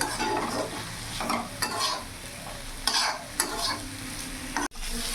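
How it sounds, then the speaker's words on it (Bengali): Spiced masala frying with fried potatoes in a pan, a steady sizzle broken by several scraping stirs of a spatula, close and fairly loud with no talking. "আলুগুলোর সাথে এবার মশলাটা আরও পাঁচ মিনিট আমি ভাজবো"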